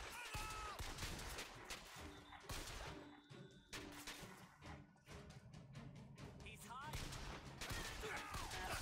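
Video game gunfire in BioShock Infinite, repeated sharp shots and bursts scattered through a busy combat mix, fairly faint overall, with a voice talking at times.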